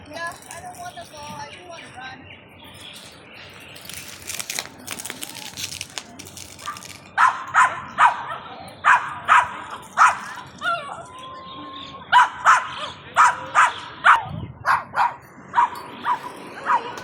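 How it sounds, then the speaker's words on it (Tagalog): Several dogs bark in short, repeated yips and woofs by the seaside at Repulse Bay, Hong Kong, fairly close and in quick bursts through the second half, with quiet murmuring and background noise before them. "Daming aso dito."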